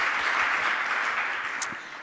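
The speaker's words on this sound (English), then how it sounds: "that definitely deserves a round of applause" Audience applause at an esports panel, a steady wash of clapping from a crowd heard at moderate distance, fading slightly toward the end of the brief burst.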